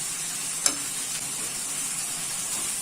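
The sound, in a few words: mixing spiced ingredients in a pan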